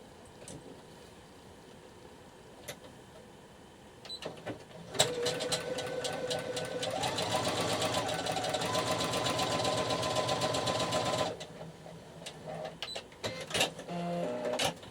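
A sewing machine runs a steady running stitch inside the seam allowance of a fabric neckline, whirring continuously for about six seconds, with a few short clicks and brief bursts of stitching before and after.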